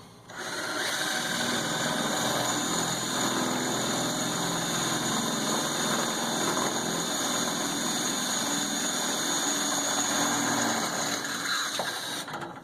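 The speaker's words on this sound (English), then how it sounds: "now comes the fun part. Drilling right through here" A steady, loud mechanical whirring drone runs unbroken for several seconds, like a drill boring through material, with no voices.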